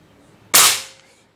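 One loud, crisp report from a Bulldog OD 38 V2 PCP air rifle shooting a heavy 13.6-grain Hercules pellet, with a sudden sharp onset and a decay of roughly half a second, with no voices.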